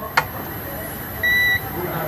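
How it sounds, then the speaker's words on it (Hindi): A digital multimeter in continuity mode, probing a Sony LED TV board during a two-blink fault repair, gives one short steady electronic beep of about a third of a second, clear and close, after a brief click. "यहाँ पर बीप की आवाज़ आपको सुनाई दे रहा होगा"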